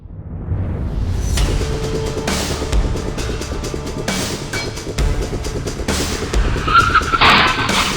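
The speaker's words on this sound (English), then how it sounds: "Pickup and trailer jackknife on an overpass in Mulvane, Kansas." A pickup truck towing a trailer loses control on an overpass in Mulvane, Kansas, with loud road and engine roar, scraping skids and tire noise building through the clip, captured up close by a dash camera.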